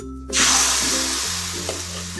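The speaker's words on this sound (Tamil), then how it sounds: "நாட் ஸ்டிக் பேனில் தான் செய்கிறேன். இப்போ லைட்டாக எண்ணெய் தடவிக்கிட்டு" Oil lightly greased onto a non-stick pan for appam bursts into a loud, close sizzle after a brief quiet start, then settles into a steady hiss with faint stirring sounds.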